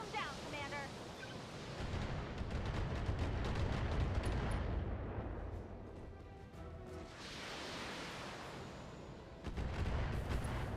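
Mech weapons fire in the BattleTech video game as a dense, continuous barrage of booming, rumbling shots, loud and near, with brief lulls around the middle before the heavy fire resumes.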